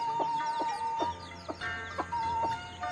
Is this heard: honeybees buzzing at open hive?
no